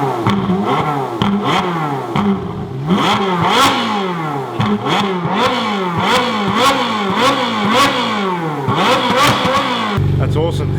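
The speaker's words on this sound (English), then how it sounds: "see what the Ferrari sounds like with the stock exhaust with the valves fully opened" A Ferrari 458 Italia on its stock exhaust with the valves fully open, revved repeatedly in a garage at night: a series of sharp, loud climbing and falling blips in a steady rhythm, close to the car, ending abruptly.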